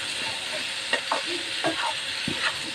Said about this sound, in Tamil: நல்லா வதக்கிட்டுலாம்.